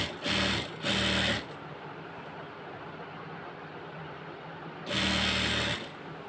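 Sewing machine stitching a georgette kameez, two short close bursts of motor whirring, a long quieter pause with low room hum, then one more burst of stitching; no talk.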